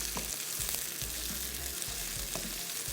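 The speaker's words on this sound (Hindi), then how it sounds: "प्याज को थोड़ा सा फ्राई करना है, थोड़ी सी सॉफ्ट हो जाए, ब्राउन नहीं करना है इसको बिल्कुल" Sliced onions for a butter chicken gravy fry gently in a pan, a soft, continuous sizzle with faint low stirring bumps, fairly quiet and steady, with no talking.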